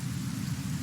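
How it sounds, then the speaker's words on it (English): Steady acid rain falling in the video game Kenshi, a continuous hiss of rainfall with a low rumbling undertone, constant and even throughout, no voices. "Acid rain is not fun for you."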